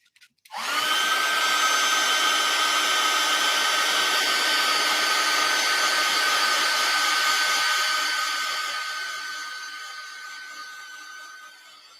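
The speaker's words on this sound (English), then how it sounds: "Let's get him with the hairdryer again." A hairdryer blows in a steady, loud whoosh with a high whine, running alone for most of the stretch and slowly tapering off toward the end.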